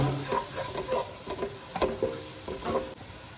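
Kashmiri chilli powder and garam masala are stirred in a pan for vegetable pulao, with repeated close scraping and light clinks over a soft sizzle, no speech.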